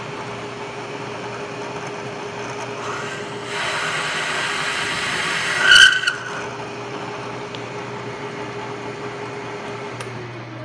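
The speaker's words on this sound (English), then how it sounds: "we're gonna go ahead and run that tool down in the chamfer there and do that" A machine hums steadily as a chamfer tool cuts a wire wheel adapter held in a collet, with a brief rise in grinding noise partway through and a sharp, loud scrape near the middle before the steady hum returns.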